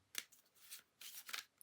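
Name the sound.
shuffling a deck of cards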